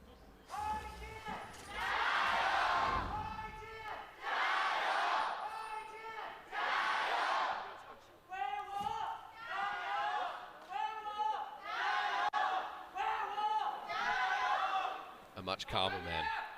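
A large arena crowd at an LPL League of Legends esports match in Hongqiao chants in loud rhythmic waves, roaring phrases in unison with brief dips between each surge.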